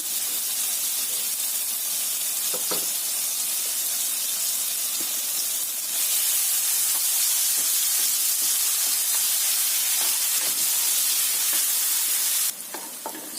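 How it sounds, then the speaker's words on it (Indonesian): Spice paste sautéing in a pan for a rice dish, giving a steady loud sizzle and hiss that holds throughout, with occasional light scrapes of stirring and no talk. "Tumis bumbunya sampai matang."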